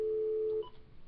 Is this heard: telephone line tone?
yes